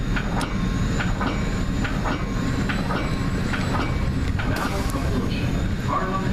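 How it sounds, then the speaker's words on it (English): An Amtrak train hauled by a P42 locomotive passes, heard from a commuter rail cab car: a steady loud rumble with rhythmic clickety-clack wheel beats, a brief squeal near the end and faint voices underneath. "that's definitely an Amtrak. I can tell that's the headlight formation of a P-42."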